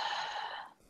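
A single soft, breathy exhale during meditation breathing drifts out close by, a gentle airy rush that fades away after under a second.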